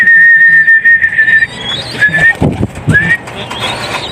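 A racing pigeon arrives at the loft after the North Summer Race, with soft cooing and fluttering close by, alongside whistle-like tones and faint background noise.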